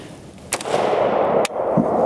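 Two sharp, loud cracks from a 5.56 rifle with a 7.5-inch barrel, fired outdoors, the second following about a second after the first, each with a brief ringing tail.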